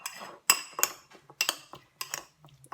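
Shrimp and chorizo stirred together in a bowl for a puff-pastry filling, with a series of sharp clinks and scrapes of utensil against the bowl in an irregular rhythm, close and fairly quiet.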